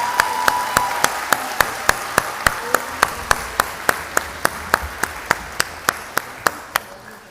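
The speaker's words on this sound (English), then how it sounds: "let's give them another round of applause" Steady, regular clapping with evenly spaced sharp claps, close and prominent over a soft background of wider applause at a high school graduation convocation ceremony.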